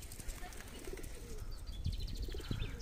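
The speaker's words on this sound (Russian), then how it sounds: "И голуби за мной летают." Pigeons in a pine forest park cooing and fluttering nearby, with soft calls and a few wingbeat bursts over a low outdoor rumble.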